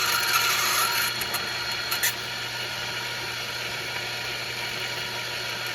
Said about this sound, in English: So let's just trim these up.